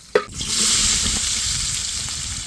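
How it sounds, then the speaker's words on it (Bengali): Onions frying in hot oil in a saucepan for curry: a sharp splash as they hit the pan, then a steady, close, loud sizzle that holds for the rest of the moment. "এবার আমরা তরকারির জন্য তেল দিয়ে দিব। এবার দিব পেঁয়াজ।"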